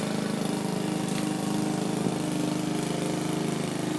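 A lawn mower engine runs steadily at an even drone, close and continuous, with no talking.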